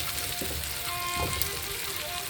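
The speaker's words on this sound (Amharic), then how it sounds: "ቲማቲሙን ደግሞ ከሽንኩርቱ ጋር በደንብ እናበስለዋለን።" Tomatoes and onions frying together in a pan, giving a steady, moderately quiet sizzle with faint crackles throughout and no talk.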